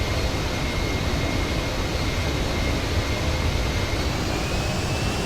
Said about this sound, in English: Let's see if we can butter this landing.